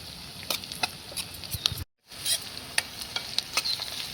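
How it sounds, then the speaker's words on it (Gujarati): Green chillies and garlic chilli sauté with onions in a hot pan, giving a faint steady sizzle broken by sharp scraping stir clicks, with a brief silent gap partway through. "હવે આપણે 1 મિનિટ માટે સાંતળવા દેવાનું છે."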